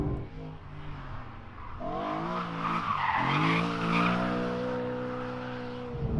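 A reworked BMW M3 E92 V8 tuned to 450 power revs hard and steadily, its rising engine note loud and sustained over a rushing, tyre-like roar.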